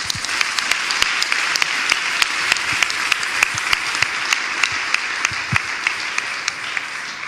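Sustained applause from an audience at a church gathering, dense steady clapping with sharp individual claps standing out, continuous for several seconds.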